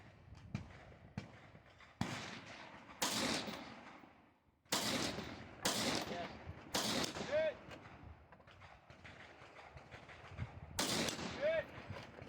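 Gunfire at a multigun shooting stage with moving plastic mannequin targets: loud sharp shots in irregular bursts, some rapid doubles and some spaced apart, with occasional metallic pings and faint background noise.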